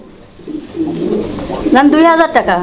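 A pair of Lahori running Graber pigeons on a backyard farm coo softly and repeatedly, close by, under a person's voice talking.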